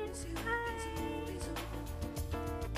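Cats in a New York cat cafe meowing over steady background music, with short cries that blend into a busy, continuous bed of sound throughout.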